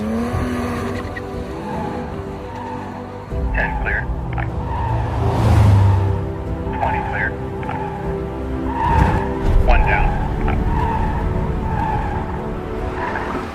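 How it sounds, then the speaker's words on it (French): Porsche 718 Spyder Roadster skidding through a 50-cone slalom course, tires squealing in repeated bursts over a loud, continuous engine roar close by. "Chloé Chambers a établi le record du monde Guinness de slalom en voiture le plus rapide à l'âge de 16 ans, avec une Porsche 718 Spyder Roadster."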